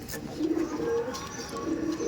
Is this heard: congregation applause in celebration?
no